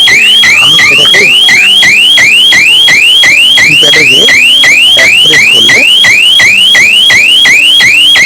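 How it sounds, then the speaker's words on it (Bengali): A shutter security alarm rings loudly and nonstop, a rapid repeating rising electronic whoop with voices talking faintly beneath it. "শাটার যদি মাটি থেকে 1 ইঞ্চি উঠে যায়, তাহলে এইভাবে অ্যালার্ম বাজবে।"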